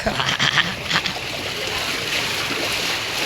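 Water splashes in a flooded area, with a few sharp splashes at first and then a steady, close rush of moving water.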